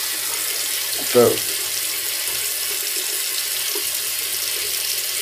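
Steady water from a tap runs throughout, rinsing a bar of Stirling Soap Mountain Man, with a short splashy burst near the start and a brief spoken word over it.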